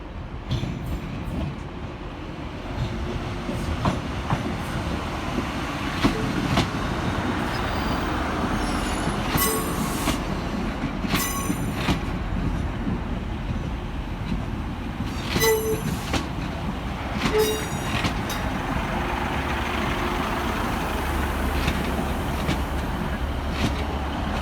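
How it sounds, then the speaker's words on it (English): A Northern class 150 diesel pair, 150-128 and 150-146, pulls into Manchester Oxford Road from Wigan Wallgate to terminate, with a long steady rumble, clicking wheels and bursts of sharp squealing brakes as it slows along the platform. "Arriving to terminate with a northern service off of Wigan Wallgate is 150-128 and 150-146."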